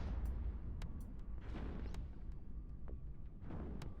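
Ship guns of a Vindicator firing in Eve Echoes, a series of deep, fairly quiet booms and cracks over a low rumbling background, with no talk.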